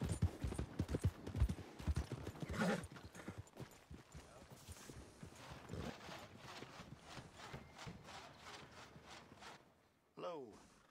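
Horse hooves clip-clopping at a steady walking rhythm in Red Dead Redemption 2, close and fairly loud, with game character dialogue spoken over the hoofbeats and a short burst of other sound near the end.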